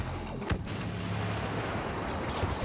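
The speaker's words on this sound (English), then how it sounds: "Y-wing bomber attack" Explosions from a Y-wing bomber attack in Star Wars Battlefront: a continuous heavy rumble with two sharper booms standing out, one early and one near the end.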